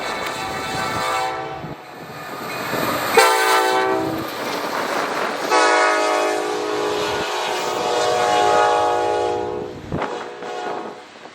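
A freight train on the Angleton subdivision in Texas rumbles past nearby, sounding its horn in several long, loud blasts over the steady rolling clatter of the cars.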